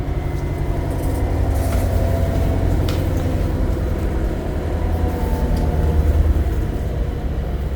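Steady, loud rumble of an O-Train railcar on Ottawa's Trillium Line heard from inside the engine compartment while riding at night, a continuous low engine drone with rail clatter that holds even throughout.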